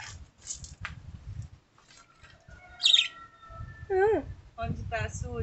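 Pet birds chirping in a home aviary, with several bright, short chirps and warbling calls scattered between people talking nearby and a brief flutter of wings.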